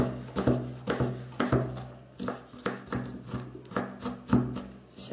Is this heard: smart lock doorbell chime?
no